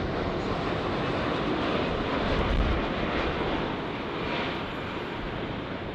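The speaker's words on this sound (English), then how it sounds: "As we wait for the departures, we get a Dreamliner." A Boeing 787 Dreamliner jet at LAX airport produces a loud, broad engine roar that swells slightly midway and then holds steady, with no voices heard.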